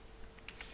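Several quick keystrokes on a computer keyboard, entering an administrator password in Windows Server 2019, faint and clicky over a steady low hum, with no voices.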